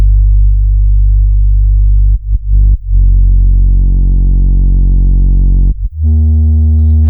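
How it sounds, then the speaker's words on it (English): A loud buzzing, harmonically rich tone from an audio signal driven through a magnet stage with iron magnetic distortion, sustained with a few brief dropouts and a pitch change near the end. "this is really some typical iron magnetic distortion"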